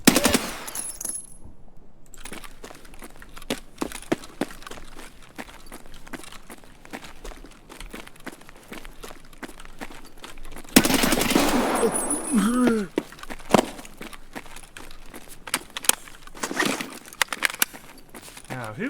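Gunfire in the shooter game Escape from Tarkov: rapid automatic bursts and single shots crack at close and middle range, mixed with footsteps, while voices talk over the action.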